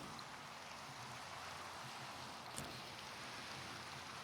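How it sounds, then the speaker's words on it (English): Soft, steady rain in the video game Minecraft, a constant hiss of falling drops with a small crackle partway through, alone without talk. "Minecraft is full of different weather patterns, so today is a bit rainy"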